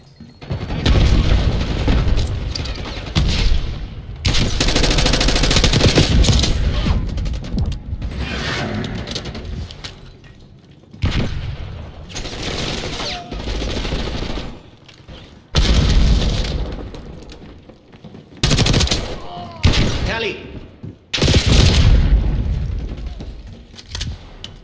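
Gunfire and explosions in Black Ops 6 team deathmatch multiplayer, loud bursts of automatic fire and booms coming in dense blocks separated by short quiet gaps, with mechanical clicks and rattles between volleys.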